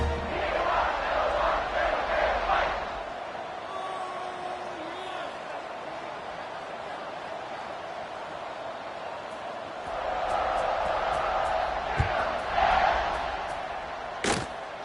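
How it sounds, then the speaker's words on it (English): A football stadium crowd roars steadily throughout a Louisville game during a kickoff, a broad, loud wash of cheering with brief thumps, under a commentator's talk. "this crowd is feeling themselves after that last drive"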